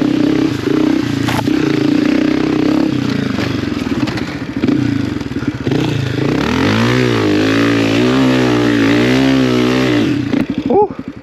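Honda CRF250F dirt bike running rough, its engine loud and close, chugging unevenly with crackles and clatter before several rising and falling revs, then a brief sputter near the end.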